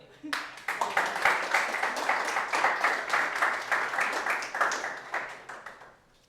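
An audience at a talk on post-quantum cybersecurity applauds the speaker, a crisp, close burst of rhythmic clapping from a modest crowd that swells quickly, holds for about five seconds, then fades out.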